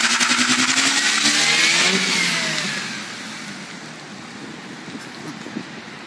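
A Mazda RX8 engine revs hard and steadily during a burnout, loud and close, with tire squeal rising through the first half before the roar eases to a lower, rougher drone.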